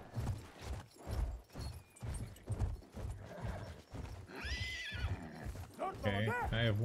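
A horse in the video game Battlefield 1 gives two whinnies near the end, amid clip-clopping hooves and game sounds, while someone talks over it.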